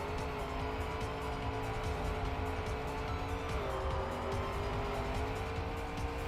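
A Trackmania race car engine drones at high revs throughout on a desert track, steady and loud, with pitch dipping and rising as it shifts and corners.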